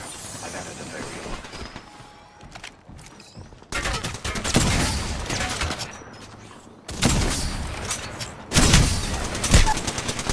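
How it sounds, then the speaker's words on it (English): Bursts of rapid gunfire in a shooter video game come in several loud, sustained volleys with rattling repeats and short quieter gaps between them. "I am taking fire, friends."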